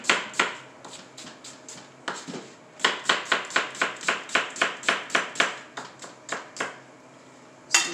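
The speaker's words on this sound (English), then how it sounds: "So we just slice the onion in half and then just cut it down." A halved onion being sliced with a knife on a cutting board: about twenty sharp, close knocks in quick, fairly even runs, with short pauses between the runs and no talking.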